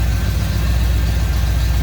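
A 1955 Ford F100 pickup's 350 V8 with a new Edelbrock carburetor idles close by, a steady, deep, low rumble with an even throb throughout.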